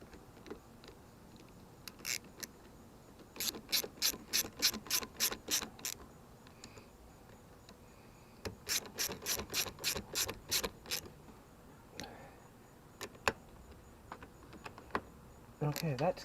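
Two 1/4-inch self-tapping bolts are tightened on a Craftsman Platinum self-propelled lawnmower with a ratchet, giving quick bursts of sharp clicking at close range, separated by short pauses.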